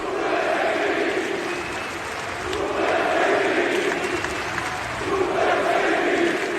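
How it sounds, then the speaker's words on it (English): Large arena crowd at a WWE Backlash wrestling event chants in loud, rhythmic swells, the massed voices rising and falling in repeated waves that fill the whole stretch. "after the event, the crowd chanted this."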